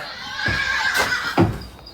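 A horse neighs and whinnies loudly and close by, two rising calls over about two seconds, with soft background noise and no talking.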